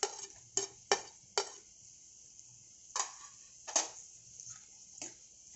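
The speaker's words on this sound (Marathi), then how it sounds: "आता आपण टॅमॅटो घालूयात." Tomatoes tumble into a pan of sautéed onions and get stirred with a spoon, giving a series of sharp metallic scrapes and clinks at irregular intervals over a faint background.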